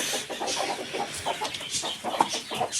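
A hen on a small farm clucks repeatedly in a steady series of short, close calls, fairly soft and alone without talk.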